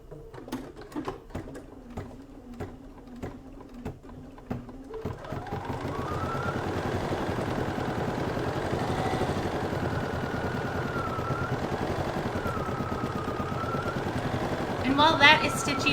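A home embroidery machine stitches out a magenta flower design in pink thread, its steady rapid mechanical whir running continuously from about five seconds on after a few separate clicks and taps at the start.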